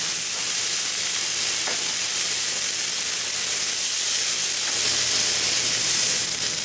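Sirloin steak sears in a cast iron pan, cooked low and slow, giving a steady, close sizzling hiss that holds evenly throughout and swells slightly near the end, with no talk.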